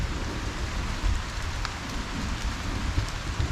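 Steady rain falls outdoors in a dense, hissing wash, with low rumbles from thunder underneath and a few sharper drop impacts close by.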